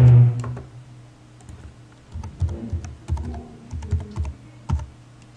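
A password is typed on a computer keyboard in irregular bursts of crisp, close key clicks, with pauses between clusters and a low hum underneath, no talk.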